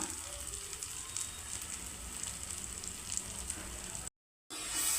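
Dried shrimp and tomato curry with chili powder frying in a pan, a steady close hiss and crackle of sizzling with faint stirring, cut off by a short dropout near the end.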